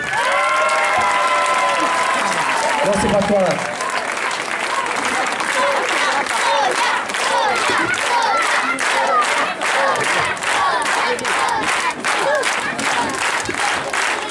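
Audience applause and cheering for the choreographer Sonia at a Mamma Mia show, a dense, steady roar of clapping throughout with a brief voice near the start and shouts mixed in.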